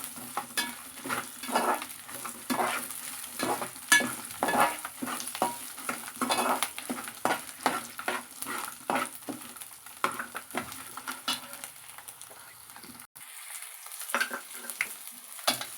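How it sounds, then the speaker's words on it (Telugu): Tempering spices and crushed garlic fry in a pan, with a soft, continuous sizzle broken by repeated scraping stirs at close range, fairly quiet and with no talking. "ఇవన్నీ బాగా వేగిన తర్వాత వీటిలోకి కొంచెం వెల్లుల్లి దెబ్బలు వేసుకోవాలి."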